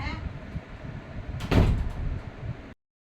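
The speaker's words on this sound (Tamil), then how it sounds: "கதவை டப்புன்னு சாத்திட்டு ஆள் கிளம்பியாச்சு" A door is pulled shut with a single sharp thud partway through, amid light indoor background noise, then everything cuts to silence.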